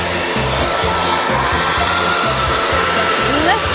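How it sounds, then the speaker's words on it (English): A hair dryer blows steadily and loudly at close range over wet newspaper, a constant whooshing hum with no breaks. "what we're going to use to really dry off this paper is a hairdryer"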